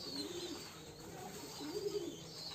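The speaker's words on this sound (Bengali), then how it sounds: "তো দেখতে আমরা খুব সুন্দর গোসল করে কবুতরগুলা।" Pigeons on a pigeon farm coo while bathing in water, low murmuring coos rising in a couple of soft bursts over a steady background hiss, fairly quiet and without talk.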